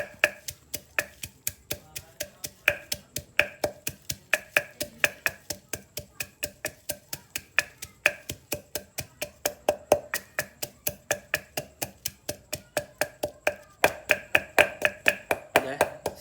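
Steady rhythmic pounding of chili paste in a mortar, a sharp thud roughly every quarter second, close and continuous, with faint voices in the background.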